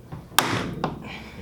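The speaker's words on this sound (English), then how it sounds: "Eventually it'll pop. That's why it's called the pop rivet." A pop rivet snaps through a camper fender in an awkward spot, giving one sharp, close metallic pop followed by a softer second click.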